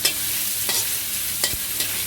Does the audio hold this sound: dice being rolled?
no